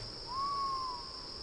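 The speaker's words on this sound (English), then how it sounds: "Okay, I think we're good to use the bird call." In the stealth video game Thief II: The Metal Age, a bird call whistle gives a single smooth, clear, rising-then-falling note lasting about a second over a faint steady electronic hum.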